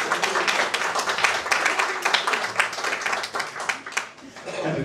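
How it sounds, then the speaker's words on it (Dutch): Audience at a neighborhood news-café discussion on new-build rents applauds a called-up participant: dense, steady clapping from a room of people, loud and continuous, tapering slightly at the end. "Dames en heren, een applaus voor Rifki Holla."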